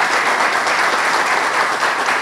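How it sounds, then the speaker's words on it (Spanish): An audience at an official launch event, including visiting Indigenous communities, gives a loud, strong round of applause, a dense continuous roar of clapping throughout. "para la cual pido un fuerte aplauso"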